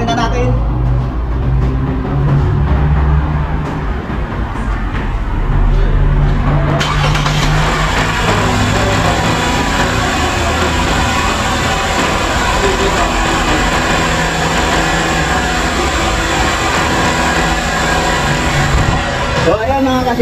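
A 2015 Lexus IS250 engine, just after a throttle body cleaning and spark plug change, cranks and starts, then holds a steady, loud, elevated idle that carries on with no pause.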